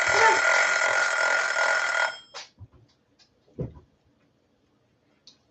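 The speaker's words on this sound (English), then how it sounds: "I know that buzzer just went off." A kitchen timer buzzer sounds loudly for about two seconds, a steady electronic drone that stops abruptly and is followed by a few faint knocks and thumps in a quiet room.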